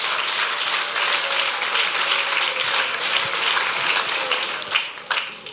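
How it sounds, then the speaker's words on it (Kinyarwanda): Congregation at a church service applauding, a dense, sustained wash of clapping from many hands that holds steady and starts to thin toward the end, with a few voices mixed in. "Komera Imana amashyi mu izina rya Yesu"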